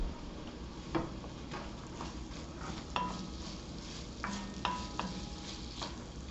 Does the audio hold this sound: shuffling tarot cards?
no